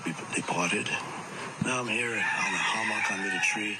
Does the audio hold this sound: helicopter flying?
no